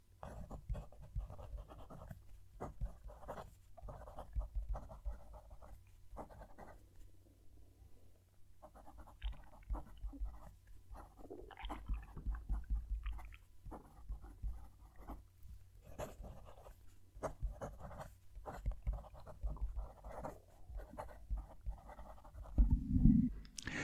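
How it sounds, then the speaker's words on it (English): Medium-nibbed fountain pen nib scratching across paper in a long run of short, quiet strokes with brief pauses between words, close and faint, no talking. "We'll move the mic and we'll write the sentence."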